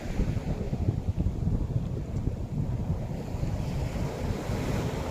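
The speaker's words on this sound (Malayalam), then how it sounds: "വെള്ളം നല്ലോണം ഇങ്ങനെ അടിച്ച് കയറി വരുന്നുണ്ട് കേട്ടോ" Sea waves surge steadily onto the shore, a continuous loud wash of surf with wind buffeting the microphone throughout and no voices.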